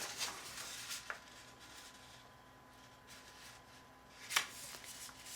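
A sheet of A4 paper is folded in half, giving faint crisp rustles and a couple of sharp creasing swipes against a quiet background, with no talking.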